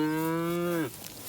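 Cows on a herd farm, one giving a single close, loud, drawn-out moo that holds steady before dropping off abruptly.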